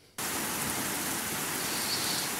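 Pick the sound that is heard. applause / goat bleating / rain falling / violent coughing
rain falling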